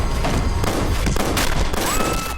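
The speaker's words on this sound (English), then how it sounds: "Such examples include the shooting of Brass, Jim!" Gunshots from a shooting scene in the CSI TV series, a short, loud burst of several rapid shots and booms over a noisy background, with no talk.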